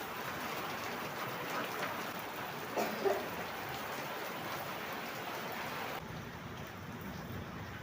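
Steady, heavy early-morning rain pours continuously outside a house over the whole stretch, with a couple of brief louder knocks partway through.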